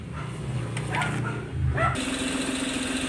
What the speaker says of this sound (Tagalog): So papaandarin lang muna natin mga kaibigan ang makina.